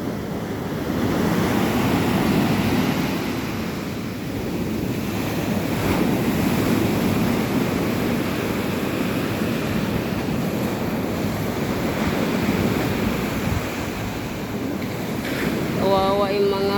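Rough, muddy-colored sea with small boats nearby, heavy surf roaring steadily with strong wind buffeting the microphone, loud and continuous, with a brief burst of voices near the end.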